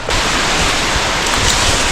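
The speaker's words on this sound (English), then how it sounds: "this wind needs to fuck right off." Strong wind roars across the microphone during a mountain climb near the peak, a loud, constant blustering rush with no break, no speech.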